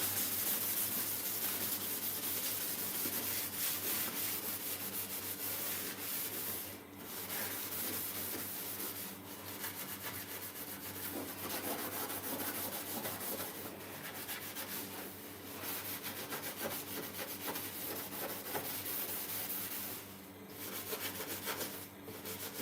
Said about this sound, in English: I need to give it a little bit of scrubbing.